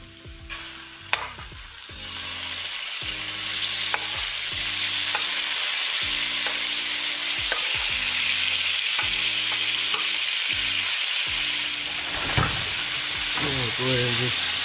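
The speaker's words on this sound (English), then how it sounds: "Now we're gonna go ahead and add our steak." Steak pieces sizzling loudly in a hot pan with browned onions, a steady hiss broken by rhythmic scraping of a stirring utensil, close and continuous, with brief faint voice in the background.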